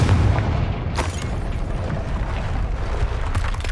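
A Confringo fire spell bursts in Hogwarts Legacy, a loud booming explosion with a sharp hit near the start, then a sustained rumbling roar that fills the scene.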